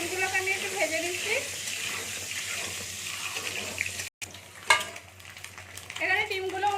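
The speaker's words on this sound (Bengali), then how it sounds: "ডিমগুলোকে আমি একটু ভেজে নিচ্ছি।" Eggs frying in oil in a pan give a continuous crackling sizzle, with a voice speaking over it, a short dropout midway and a sharp clatter after it.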